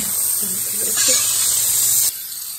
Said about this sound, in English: So it's just steam coming out of this direct hole.